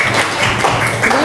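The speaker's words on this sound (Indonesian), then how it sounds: "Tepuk tangan dulu untuk kalian ya." A classroom of pupils applauds after their teacher's prompt, a dense, steady wash of clapping filling the short moment with no gaps.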